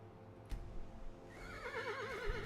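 A horse in the video game Skyrim gives a clear, wavering whinny that rises and trembles over low ambient game sounds, following a sharp thump near the start; no talking.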